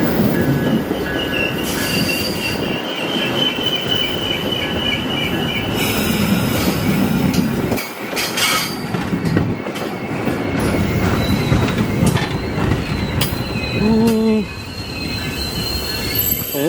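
A passenger train rumbles past close by, wheels squealing and screeching on the rails over steady clattering, loud throughout.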